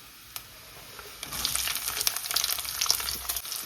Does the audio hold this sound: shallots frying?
yes